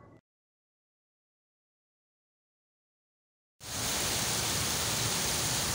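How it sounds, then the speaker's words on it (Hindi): Heavy rain pouring down in Karachi, a loud, dense and steady wash of noise that begins abruptly after a few seconds of silence and continues without a break. "इस वक्त आप देख सकते हैं कराची में काफ़ी तेज़ बारिश हो रही है।"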